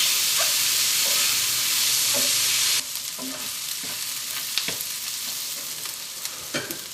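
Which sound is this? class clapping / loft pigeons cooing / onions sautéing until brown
onions sautéing until brown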